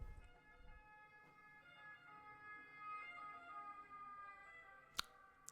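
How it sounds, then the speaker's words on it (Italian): A faint ambulance siren wails in the distance on a road in Italy with a steady rising and falling tone. A sharp click sounds near the end. "Ambulanza."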